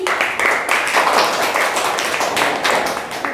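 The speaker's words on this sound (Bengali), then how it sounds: "আমরা নদীর জন্য জোরে হাত তালি" A group of schoolchildren in a classroom clap loudly for a classmate, producing a dense, rapid burst of applause that lasts a few seconds close by, with no talk over it.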